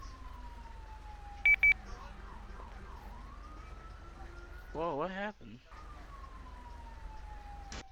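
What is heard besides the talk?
ambulance siren in a roleplay video game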